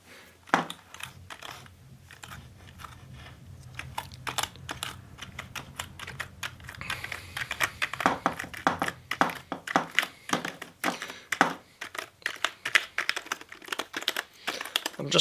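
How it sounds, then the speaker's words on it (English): Betron Super Clean dust cleaner putty rolled and pressed over computer keyboard keys, giving dense irregular clicks and taps, sparse at first and then building into a busy rattle of keys close up. "I'm just rolling around the keys, rolling this Betron Super Clean"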